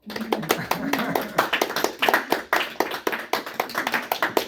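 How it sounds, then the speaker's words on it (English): A teens class claps in a small room, sharp uneven handclaps that start thin and build into a quicker, denser patter, with a voice speaking briefly at the start. "You can clap now"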